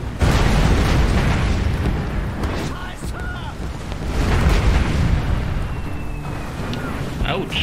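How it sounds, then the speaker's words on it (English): Incoming artillery explosions in War Mongrels, loud rolling booms and bursts overlapping throughout under shouted voices, with rumbling blasts swelling and fading. "Incoming artillery fire!"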